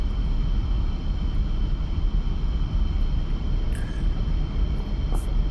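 A MiG-29 jet taxiing in the DCS flight simulator game gives a steady, low engine rumble that drones on evenly throughout, with no talking.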